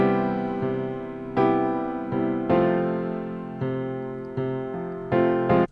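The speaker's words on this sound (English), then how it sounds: "I have a sample called 70s Ballad Piano." A 70s ballad piano sample plays a slow series of separate sustained notes and chords, each struck clearly and left to decay, close and even, with no talking.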